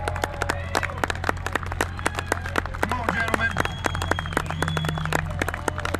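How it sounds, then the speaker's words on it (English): Audience clapping at a truckers' convoy rally in Quemado, Texas, as the drivers climb onto the stage: steady, dense handclaps through the whole stretch, with a voice talking over them and a low hum underneath. "Everybody give them a round of applause, please, as they come up here."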